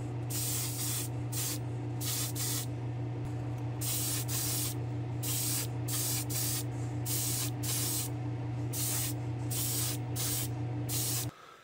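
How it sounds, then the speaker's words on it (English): Spray paint hissing from an aerosol can onto glass in a long run of close, loud bursts, each spray broken by short pauses, over a steady low hum from the room, with no talking. "So we're going to try spraying this for the first time on this glass."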